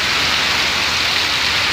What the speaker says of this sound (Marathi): इतका तुफान पाऊस चालू झालेला आहे